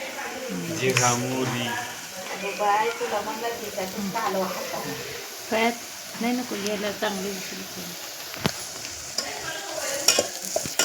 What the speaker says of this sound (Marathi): कांदा फ्राय झाला